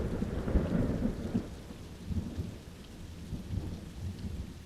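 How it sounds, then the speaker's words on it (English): Steady rain pours down in the Dolomites mountains while rolling thunder rumbles low and close, the heaviest burst early on and then a continuous wet downpour with further dull rumbles, no voices. "the rain did set in"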